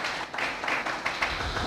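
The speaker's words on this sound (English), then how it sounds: "Round of applause." A short burst of applause fills a conference hall during a history forum, many hands clapping densely and evenly at moderate loudness with no voices over it.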